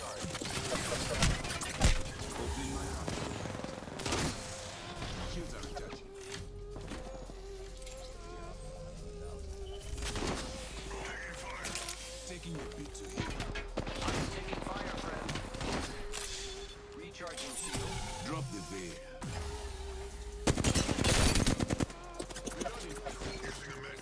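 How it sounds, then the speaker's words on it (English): Apex Legends gunfire in a late-game fight: scattered shots and bursts come at moderate loudness amid game ambience and effects, with a player talking over much of it. "I am taking fire, friends. I'm taking fire."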